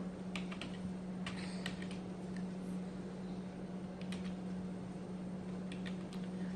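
Computer keyboard typing during a statistics lab exercise: irregular clusters of light, close keystrokes over a steady low electrical hum, with no talking.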